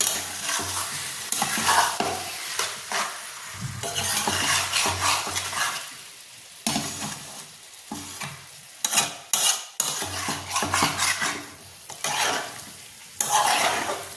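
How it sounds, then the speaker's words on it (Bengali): Chicken liver stirred with spices in a pan for a curry, long stretches of frying sizzle broken by spoon scrapes and clinks against the pan, near and fairly loud. "মেটেটাকে অ্যাড করে দিও, মানে ভালো করে একটু মিশিয়ে নেব"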